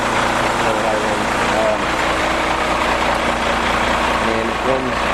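An old International truck with a 10-speed transmission runs steadily, its engine a constant low drone close by, with someone talking over it.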